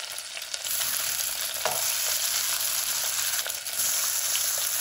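Potato and carrot tikkis sizzle steadily in hot oil in a pan, a continuous bright crackle with a few soft stirring scrapes and no talking.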